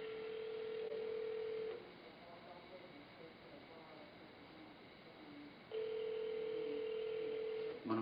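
A telephone rings unanswered on a call to a fast food place, giving two long, even ringback tones separated by a quiet pause, heard faintly down the line with soft background murmur.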